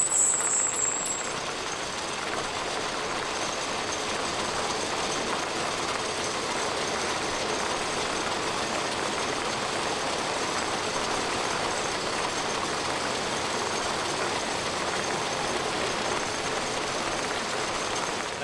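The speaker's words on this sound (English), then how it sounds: "This machine is called a Dandy Rover, so it's roving or twisting those 3 strands into one to make our equivalent of 8-ply yarn" A Dandy Rover yarn roving machine, built in England in 1938, twists three wool strands into one 8-ply yarn with a steady, dense mechanical whir and rattle that holds level from start to finish, no voices.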